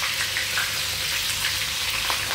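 Onion sizzles steadily in a hot frying pan while being stirred, a dense continuous crackle with faint scraping accents, close and fairly loud, with no talking.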